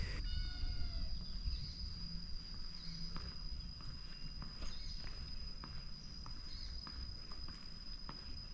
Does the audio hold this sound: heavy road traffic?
no